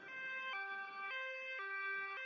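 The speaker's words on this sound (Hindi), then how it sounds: "एम्बुलेंस लाडो को लेकर अस्पताल की तरफ निकल पड़ती है।" Two-tone ambulance siren from a Hindi jungle cartoon, alternating high and low pitches in a steady repeating cycle, loud and close with no talk over it.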